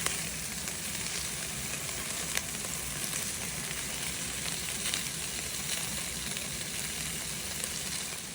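Venison meatballs sizzle and fry in a pan with a steady, close, broadband crackle and hiss, a few sharper pops scattered throughout, no voices.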